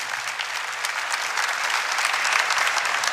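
A church congregation at a Catholic adoration night applauds together, a dense, steady wash of many hands clapping that holds at an even level and swells slightly toward the end, with no voices over it.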